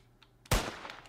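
A single sharp gunshot in the Roblox Murder Mystery video game cracks out suddenly midway, loud against a quiet background, with a short fading tail.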